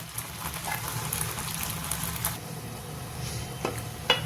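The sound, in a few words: lentil dal boiling in pot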